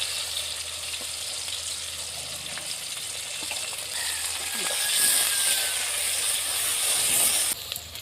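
Onions, green chillies and whole spices such as cumin, cinnamon, cardamom and cloves frying in hot oil for a Bengali yogurt chicken dish: a steady, close sizzling hiss that swells slightly midway, with faint stirring clicks.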